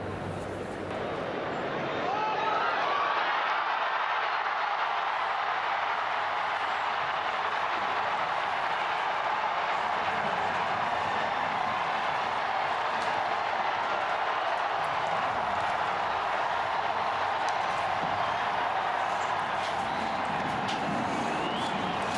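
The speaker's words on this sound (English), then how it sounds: "The crowd realized there was a new leader of the Roman Catholic Church." A large crowd in St. Peter's Square reacts to the announcement of a new pope with a sustained, dense roar of cheering that holds steady from a distance for the whole stretch.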